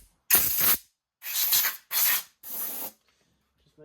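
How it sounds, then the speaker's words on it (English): Compressed air blasted around the carburetor area of a Hyper Tough push mower, four sharp hissing bursts in quick succession, loud and close, the first the longest, then quiet. "So first thing I'll do is just blow things out a little."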